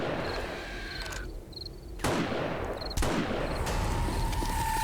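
Two sharp rifle shots crack out about a second apart in the survival game 7 Days to Die with the Valmod Overhaul mod, loud and close over a hissing outdoor ambience, with no voices.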